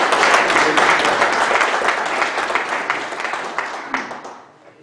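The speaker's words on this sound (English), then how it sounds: "let's give Ken a round of applause and welcome him." Loud crowd applause, dense and sustained clapping that gradually thins and fades out over several seconds.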